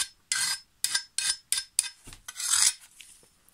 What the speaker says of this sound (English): I'll take my flat file and give it quite a few strokes to try and get back to a straight edge